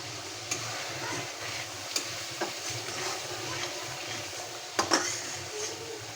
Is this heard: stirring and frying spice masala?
yes